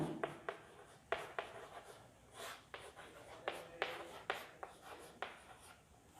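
Chalk or marker scratches across a board in short, separate strokes and taps, quiet and close, with brief pauses between words being written.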